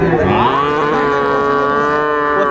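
A small heifer calf at the Amabari cattle market in Dinajpur gives one loud, close, sustained moo that holds steady for a couple of seconds.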